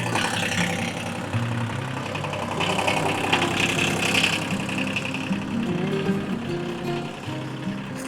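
An old tractor engine idles steadily up close, a continuous loud rumble with a rough mechanical chatter that holds even throughout, no voices over it.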